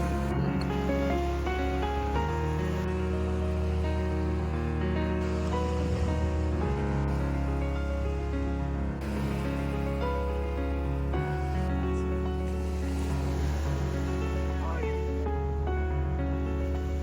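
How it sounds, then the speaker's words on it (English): Ocean waves wash steadily at a beach in a continuous broad roar, heard under background voices and faint music-like tones. "and we just got to the beach."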